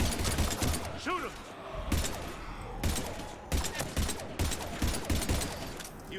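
Gunfire in the Mass Effect 3 video game comes as repeated close bursts of shots in an uneven rhythm, mixed with game combat sounds and brief voices.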